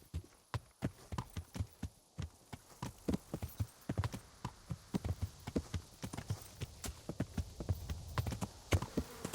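Horse hoofbeats in the medieval video game Kingdom Come: Deliverance, a quick, steady clip-clop of galloping with a faint hum in the background, fairly quiet and without voices.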